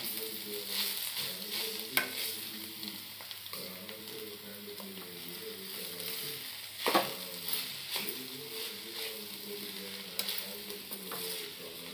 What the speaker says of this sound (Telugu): బాగా కిందకి మీదకి బాగా కలుపుకోవాలి కూరని